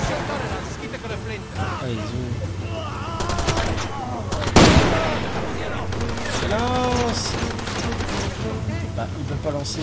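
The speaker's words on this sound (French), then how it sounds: "ils sont plusieurs à me tirer avec l'artillerie lourde" Heavy gunfire in the video game Far Cry 2: dense, sustained bursts of shots crackle throughout, with a louder blast near the middle, while a person talks over the shooting.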